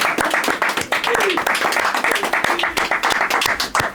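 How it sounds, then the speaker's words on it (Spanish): Applause from an audience at a bookshop book presentation, close, loud individual claps in a quick uneven patter from a smallish crowd, with brief voices mixed in. "damos un aplauso a toda la gente que ha venido aquí a vernos"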